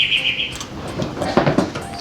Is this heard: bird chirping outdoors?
yes